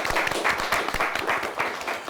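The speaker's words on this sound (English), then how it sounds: "let's give Alma a nice round of applause for their win" Studio audience applauding a school team's win on a televised high school quiz show, Alma against Chippewa Hills, a steady patter of many hands throughout with no voices over it.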